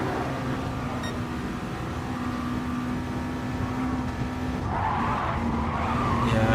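A race car in a racing video game slides off onto the grass, a sustained skidding and engine drone that grows louder toward the end, heard alone without talk.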